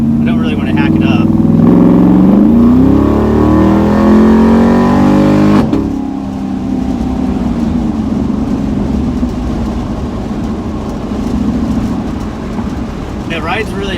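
A pickup truck with a swapped Gen V L83 V8 drives along, the engine revving up loudly with a rising tone, then dropping into a steadier cruising rumble and road noise, with a voice talking over it.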